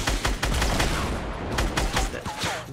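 Rapid gunfire bursts from a Fortnite Battle Royale match crackle loudly and repeatedly, overlapping shots rattling across nearly three seconds with no voice over them.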